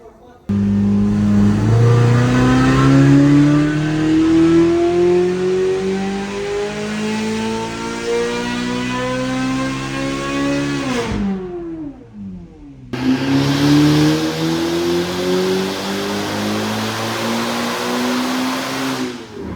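A Corvette ZR1's supercharged engine revs hard through rising gear pulls, climbing in pitch, cutting off briefly, then pulling again loudly, with a voice faintly audible over it.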